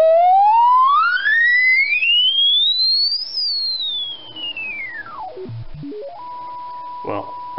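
A pure electronic sine test tone sweeps smoothly upward to a piercing high pitch, then glides back down, followed by a steady beep and a few clicks.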